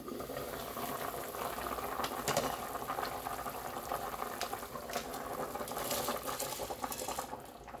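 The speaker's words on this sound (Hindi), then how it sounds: "माशाल्लाह पानी जो है काफ़ी हद तक उबल चुका है, खोल रहा है।" Water for chicken pulao at a rolling boil in a cooking pot, a steady bubbling and hissing wash that holds at an even, fairly close level throughout with no talk.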